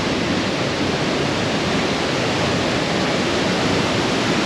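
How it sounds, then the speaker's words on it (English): Two waterfalls in the Thur gorge pour in a steady, dense roar heard up close at their base, unbroken and fairly loud with no voices. "I am just approaching the base of what is actually two separate waterfalls"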